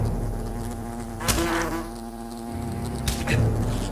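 Swarm of bees buzzing in the video game Fable Anniversary: a steady, close insect drone that holds throughout, with a couple of brief louder bursts.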